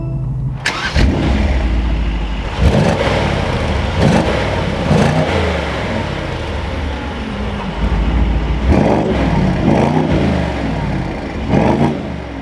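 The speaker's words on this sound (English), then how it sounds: "let's fire this SL63 up" 2022 Mercedes-AMG SL63 roadster engine firing up with a loud throaty bark, then settling into a deep rumbling idle punctuated by several sharp revving blips.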